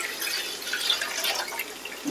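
Dissolved ragi flour mixture is poured from one vessel into a cooking pot in a home kitchen, giving a steady, continuous liquid splash and trickle that stays close and moderately loud for about two seconds, with no talking.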